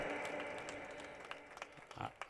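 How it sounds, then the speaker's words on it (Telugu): Guests at an engagement ceremony break into loud, dense applause that thins gradually, with a few sharper clapping bursts near the end. "మనమందరం చప్పట్లు కొట్టి దేవుని కనపడదాం గట్టిగా"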